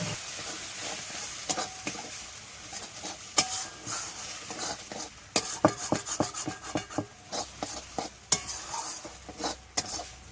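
Oysters stir-fried in a pan with spices and a splash of water, a steady sizzle broken by repeated scraping and clinking as a utensil stirs against the metal pan, loud and close.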